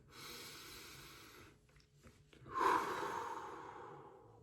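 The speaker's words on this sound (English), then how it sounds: "When you breathe correctly, you'll breathe slow." A person demonstrates slow breathing: a long, soft exhale fades out, a brief pause, then a louder, drawn-out breath swells and slowly tapers, close and quiet with no talking.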